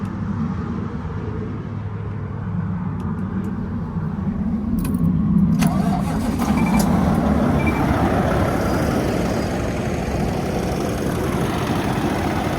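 A new truck's engine idles close by, a steady low rumble under a few light clicks and jingles, with no talk.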